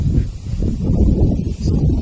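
Strong wind during a windstorm buffets the microphone in a deep, loud rumbling roar that keeps going, easing only for a moment before gusting again.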